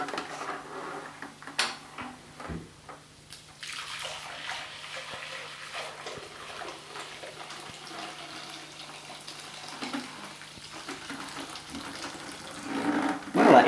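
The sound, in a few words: dirty carpet-washing water poured into a clear Pyrex bowl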